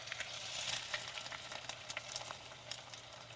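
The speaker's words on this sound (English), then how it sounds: "I'm going to crack it slow. That way it can start frying." An egg sizzles quietly in a hot pan inside a silicone egg ring, a soft, steady frying hiss dotted with faint crackles and pops.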